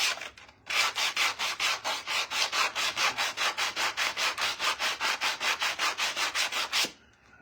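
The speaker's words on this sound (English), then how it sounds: "I won't need that big aggressive sander that I've been using" A large, aggressive power sander works over a rough, rustic wood piece in a steady run of rapid rhythmic scrubbing strokes, close and continuous for several seconds before stopping abruptly.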